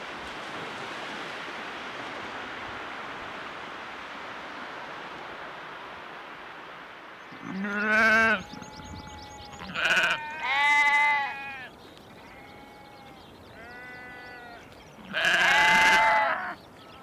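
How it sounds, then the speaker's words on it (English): Sheep on coastal grassland at Northam Burrows bleat several times in close succession, loud and near, after a stretch of steady wind-like outdoor hiss. "Even the sheep help to bring the place alive"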